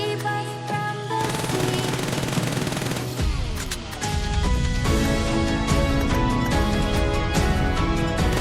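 Automatic weapon fire in PUBG Mobile during a recoil test, with loud rapid bursts of gunshots in fast rhythmic sequences with short breaks between them.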